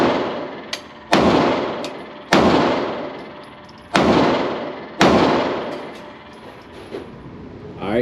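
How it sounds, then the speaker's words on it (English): Handgun shots fired back to back at a range, five sharp loud cracks at irregular intervals, each ringing out with a short echoing tail, a fainter distant shot between them. "pick this one up, shoot 5 rounds, and then pick that one up, shoot 5 rounds"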